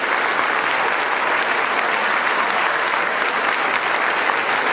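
A hall audience at a student parliament's inaugural function gives sustained, loud, even applause that fills the whole stretch with no break, rising on request.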